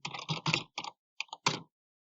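A password is tapped out on a computer keyboard in quick, uneven bursts of crisp key clicks with short pauses between them, close and clear, ending in a final cluster of strokes.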